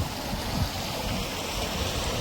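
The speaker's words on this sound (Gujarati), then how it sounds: "તો બગીચામાં પાણી વારીએ" Steady, close rushing of water flowing into garden beds during watering: a constant broadband wash with no pauses.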